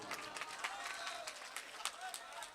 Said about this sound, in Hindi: तालियां आप बजा सकते हैं एसडीएम साहब के लिए।